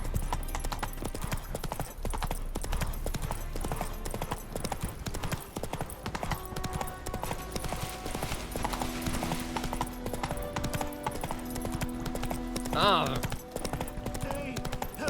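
A horse's hooves clip-clop at a steady trot in The Witcher 3: Wild Hunt on Xbox Series X, the even rhythm running throughout with game ambience and a voice over it.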